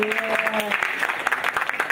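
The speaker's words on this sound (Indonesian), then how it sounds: "Tepuk tangannya dong buat Mas Demas." Audience applause at a jazz event rings out before the show, a brisk, dense clatter of clapping that fills the room under a voice speaking over it.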